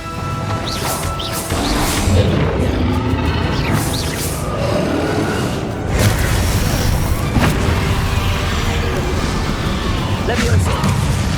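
Blasting spell explosions in the Hogwarts Legacy video game, loud booming crashes and whooshes that come again and again over busy game sounds, with a voice talking throughout.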